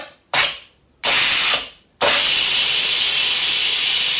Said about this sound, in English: hopefully you can see the steam releasing here.